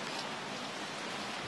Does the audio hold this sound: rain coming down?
yes